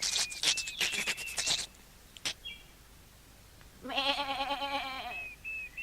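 Goat bleats on a farm, a quivering, wavering call near the end following a burst of bird-like chirps at the start, heard close and clear with quiet pauses between.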